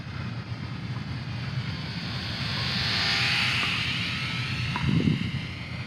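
Eachine Spitfire 400mm micro RC warbird flying outdoors, a steady high electric motor whine that swells as it passes closer, under light wind noise.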